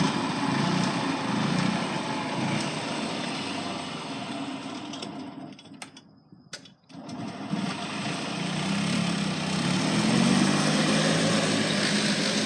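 A Yamaha G1 golf cart's small two-stroke engine runs steadily at a moderate distance, a continuous buzzing drone that dips briefly in the middle before returning, with no talk.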